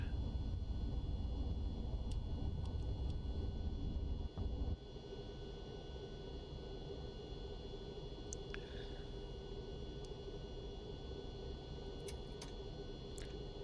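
An MD-11 airliner's jet engines roar steadily and loudly at full power as it lifts off and climbs out of Taiwan Taoyuan in the X-Plane 12 flight simulator. The dense roar dips slightly partway through and continues without talk.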